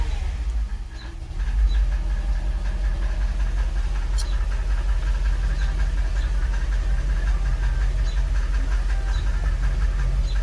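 A 2006 Mercedes CLS 500 V8 idles steadily, a low continuous rumble close by that fills the whole stretch after a short dip at the start, with no talking.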